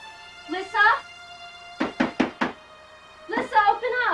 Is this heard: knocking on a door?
yes